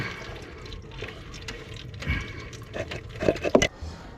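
Engine oil draining from the sump of a Mazda Bravo V6 during a DIY oil change, soft trickling and dripping into a container with a few sharper splashes and clunks toward the end, quiet and close.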